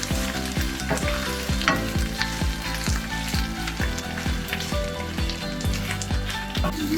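Al pastor pork sizzling and frying in a hot pan, a constant crackling hiss with repeated scraping stirs, close and fairly loud, no talking.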